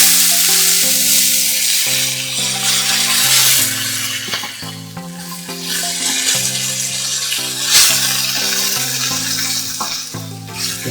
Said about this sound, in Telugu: ఆకు కొద్దిగా బాగా తరతరలాడేటట్టుగా వేసుకోవాలి. అది ఇంకా కొంచెం వేగుతుంది.